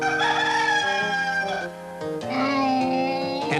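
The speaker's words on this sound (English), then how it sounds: "That was Ricky Rooster." A cartoonish rooster crows loudly and close in a long, wavering cock-a-doodle-doo with a brief dip midway, bright and alone with no talk.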